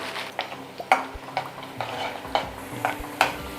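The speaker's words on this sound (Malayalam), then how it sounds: "ഈ എണ്ണയിൽ തന്നെ അണ്ടിപ്പരിപ്പും മുന്തിരിയും ഇട്ട്" Cashews and raisins fry in hot oil for chicken biryani, with a soft sizzle under repeated clinks and scrapes of a spoon stirring in the pan.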